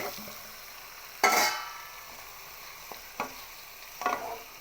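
Chicken stir-frying in a hot pan with curry leaves, a sudden loud sizzle when the pieces hit the oil, then quieter frying broken by a few short stirring bursts, with no voices.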